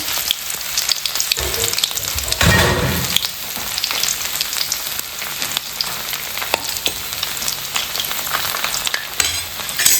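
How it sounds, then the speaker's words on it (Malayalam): Ginger sizzles in hot oil with mustard seeds in a pan. It fries loudly and steadily throughout, with the scrape and clatter of stirring spread across the sizzle. "നമുക്ക് അതിൻ്റെ കൂടെ കുറച്ച് ഇഞ്ചി ഇട്ട് കൊടുക്കാം"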